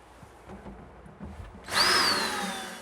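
A power drill drives a screw into wooden shelf standards with a short rising, then slowly falling whir after a second of soft handling knocks, up close and fairly quiet.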